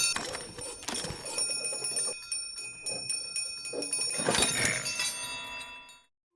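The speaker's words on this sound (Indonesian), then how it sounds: "Hideko memanggilnya melalui bel" A bell rings repeatedly to summon someone, its bright, ringing tones sustained across the whole stretch with a louder burst near the end and no talking.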